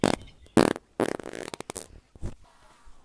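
Several loud farts in close succession, sputtering bursts with brief gaps between them, close to the microphone with some faint background noise.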